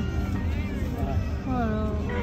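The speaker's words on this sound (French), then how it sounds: "Mais bon, il miaule quand même" A cat in a carrier meows aboard a plane that has just landed, giving drawn-out, wavering cries over the steady hum of the cabin and muffled chatter.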